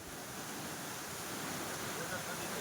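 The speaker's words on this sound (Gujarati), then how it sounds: "આ પાણીને તમે ફ્લો જોઈ શકો છો, કેટલી સ્પીડથી પાણી જાય છે" Floodwater pours through a breached embankment on the Ojat river in the Gher area of Junagadh, making a steady, dense rushing roar that holds evenly throughout with no pauses.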